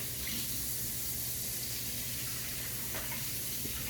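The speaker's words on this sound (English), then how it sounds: "Make the dough for your corn tortillas, you are going to add warm water" A steady, continuous stream of warm water pours without pause into corn tortilla dough, a close rushing hiss like a tap running into a bowl.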